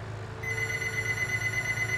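A telephone rings in a farm setting, a steady electronic tone that starts after a brief pause and holds continuously over a low background hum.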